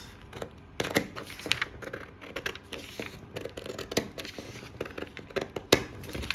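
Scissors cut excess paper away from a side dart pattern in irregular crisp snips and rustles, close up and fairly quiet.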